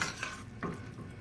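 A spoon stirs salt through Trini curry channa with chickpeas and potatoes in a pot, giving soft scraping clinks and a brief sharper knock against the metal, close up and steady with no talking.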